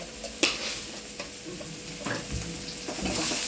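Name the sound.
masala frying and being stirred in oil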